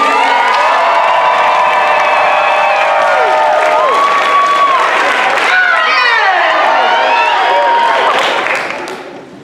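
A school audience cheers, whoops and claps loudly for its seniors. High shouted voices rise and fall over a steady roar, and the noise fades out at the end.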